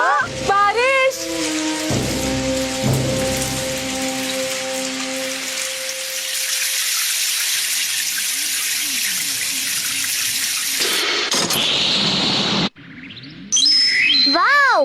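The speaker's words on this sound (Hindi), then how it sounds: "बारिश।" Rain falls in a dense jungle in a cartoon scene, a steady broadband hiss running for most of the stretch, with musical tones, birdlike chirps and brief voices breaking in at the start and end.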